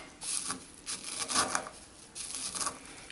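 Onion being ground in a mortar with a pestle for a salad dressing, heard as soft repeated rubbing and scraping strokes, close and fairly quiet, with no talking.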